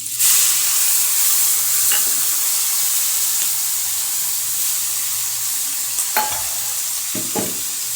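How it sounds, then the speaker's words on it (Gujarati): Mustard seeds, garlic and chillies frying in hot oil as a tempering for Manchurian, a dense close sizzle with a few sharp clinks and stirring scrapes near the end, no speech. "હવે આપણે તેમાં રાઈને તે તતડી જાય એટલે લસણ સૌ પ્રથમ નાખીશું વઘાર માટે."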